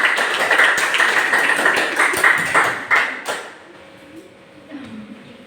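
Classroom applause for a student presentation group, dense clapping from many students filling the room for about three seconds, then cutting off abruptly into quieter background with faint voices.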